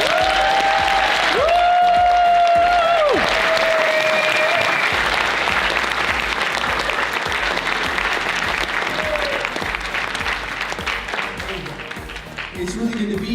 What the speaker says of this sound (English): Would you please give a round of applause to our good friend, Evan Dunn.